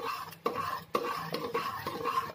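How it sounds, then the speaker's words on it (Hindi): A utensil stirs cream (malai) into a dish in a metal pot, giving repeated scraping, clinking strokes at a quick, uneven rhythm, close up and without speech. "इसको मलाई को भी हमने मिक्स कर लेना है।"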